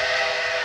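A steam locomotive whistle blows one steady, loud, sustained tone through the whole short stretch, with no pause or break in it.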